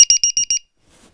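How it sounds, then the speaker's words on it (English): A quick series of six high-pitched electronic beeps in a steady rhythm from a quadcopter's low battery voltage warning buzzer, plugged into a 2200 mAh LiPo battery, then silence. "It's the low battery voltage warning buzzer."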